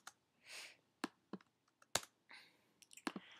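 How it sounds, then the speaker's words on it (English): Keys clack on a Mac computer keyboard in quick, uneven bursts while someone types into a Microsoft Word 2011 document, the sharp clicks close and crisp against a quiet room. "So it's just really fast typing"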